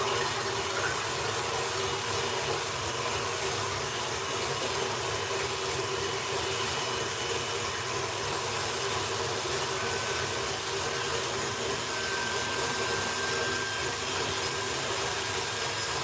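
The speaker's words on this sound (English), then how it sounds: "At this point is when I'm going to turn on the KitchenAid." A KitchenAid stand mixer runs steadily in a kitchen during cake decorating, a constant quiet motor hum and whirring hiss with no breaks.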